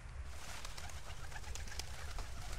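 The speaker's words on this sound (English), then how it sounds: "Got some birds flying off." Birds in the retro narrative video game Bird Story take off, with soft cooing and fluttering over a steady game background, and no speech.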